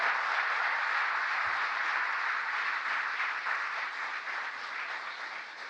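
An audience at an anniversary event for the Inflation Reduction Act gives sustained applause, a dense, steady wash of clapping that slowly tapers off over a few seconds.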